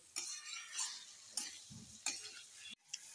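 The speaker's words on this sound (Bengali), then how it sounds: "ভালো করে কষে নিচ্ছি।" Spices are stirred and sautéed in a pan for a katla fish curry, with several short scraping stir strokes over a soft sizzle, fairly quiet and close.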